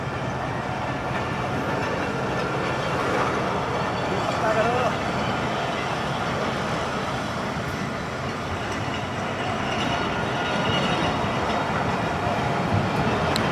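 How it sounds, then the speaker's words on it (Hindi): An all-economy-class passenger train pulls away from Ranpethani railway station, a steady close rumble with faint clickety-clack of wheels, and a voice talks over it. "विदिन 30 सेकेंड्स ट्रेन वापस चल पड़ी"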